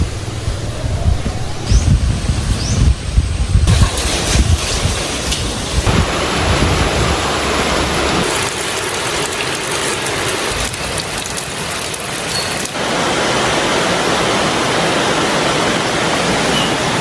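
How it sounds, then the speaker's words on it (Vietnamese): First rain of the season after six months of drought in Dong Nai, Vietnam: steady heavy rainfall hisses loud and close, with low thunder rumbling underneath in the first seconds, then a dense, even downpour continues with no talking. "Sau hơn 6 tháng khô hạn nắng nóng thì hôm nay Đồng Nai quê mình cũng đã có được cơn mưa đầu mùa"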